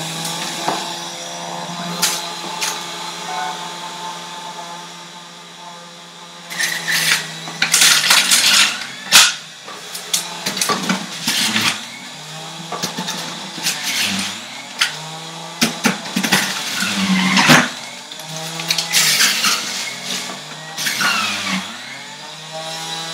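A loud juicer grinds and whirs in uneven bursts, surging and dropping as apples and carrots are fed through, with clattering rattles mixed in.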